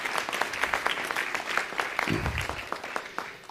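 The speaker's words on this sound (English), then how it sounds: "Give him a round of applause." A city council meeting audience gives a round of applause for a high school principal. Brisk, steady clapping of moderate loudness carries a few distinct sharp claps, with a low murmur partway through.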